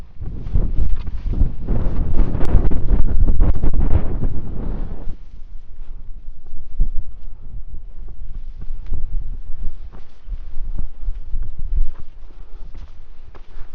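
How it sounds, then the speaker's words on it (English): Strong wind roars across the microphone on an exposed hilltop along a British walking trail, loud and buffeting for the first five seconds before easing to a steadier, lower rush of gusts. "Not going too close to the edge though with all this wind."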